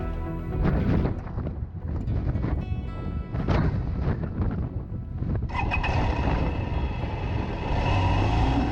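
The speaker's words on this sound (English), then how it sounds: "The winds were gusting for many miles while the temperature continued to drop." Strong gusting wind buffets the microphone in a steady roar while a motorcycle rides for miles along the Pacific Coast Highway, the noise shifting in pitch partway through.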